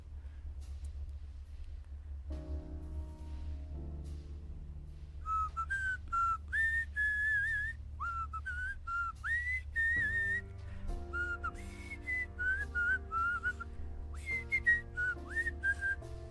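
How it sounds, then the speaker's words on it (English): Someone whistles a favorite Brazilian song into a microphone in the game Event[0], a melodic tune carried over a low steady rumble, clear and close, in phrases running through most of the clip. "You tried to establish communication with someone, whistling your favorite Brazilian song into the microphone."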